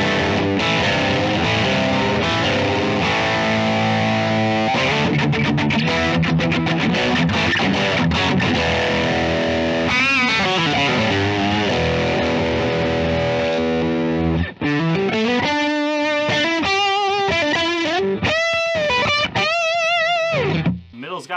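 Heavily distorted 2021 Fender Stratocaster on its bridge pickup playing thick, bright chords and riffs, with sustained notes and bends, loud and continuous with no vocals.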